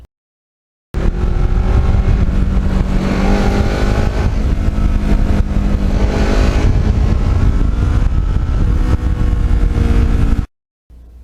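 A restored black motorcycle engine revs hard and continuously, loud and close, holding a steady high roar for about ten seconds after a brief silence.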